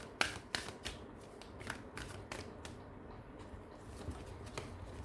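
Soft, rapid riffle and patter from a deck of tarot cards being shuffled, a run of quiet, irregular flicks heard close up, with no talking.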